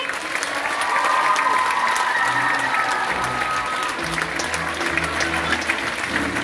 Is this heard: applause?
yes